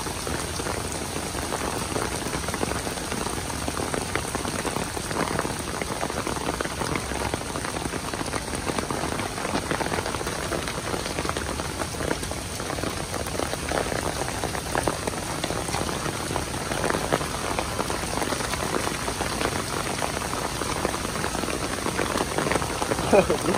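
Heavy downpour in New York City, a dense, constant roar of rain pelting the street and surfaces close by, steady throughout with faint speech in places.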